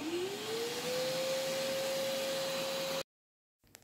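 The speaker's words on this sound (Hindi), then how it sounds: "मशीन ऑन करने के बाद आप आवाज़ सुन ही सकते हैं काफ़ी तेज़ आवाज़ करती है ये मशीन" An American Micronic 1600 W wet and dry vacuum cleaner with a copper motor starts up with a rising whine, runs loud and steady for about three seconds, then cuts off abruptly.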